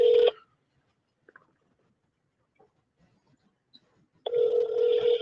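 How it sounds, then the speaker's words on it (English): A telephone ring tone sounds loudly on a call line, a short burst at the start, then near-silence with faint clicks before the ring tone returns and holds to the end. "Come on, somebody got to pick up the phone."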